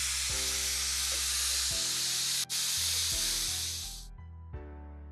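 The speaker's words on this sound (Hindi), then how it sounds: "और ये कुकर महाशय फिर बोल पड़े हैं।" A pressure cooker on the stove, cooking dal for dal baati churma, lets out a loud, steady whistle and a rush of hissing steam that cuts off abruptly near the end, with no talking.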